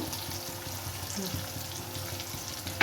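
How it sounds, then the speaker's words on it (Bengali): Mustard paste goes into hot oil in a pan for a Bankura-style fish curry, giving a steady close sizzle with faint stirring and a sharper clatter at the very end. "এই যে তেল ছাড়ছে এবার আমি এর উপরে আস্তে আস্তে এই যে সর্ষে বাটার পেস্টটা দিয়ে দিচ্ছি"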